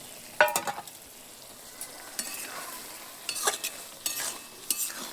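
Cauliflower and potato curry with peas sizzles softly in a pan while a spoon scrapes and stirs it in irregular bursts, close by.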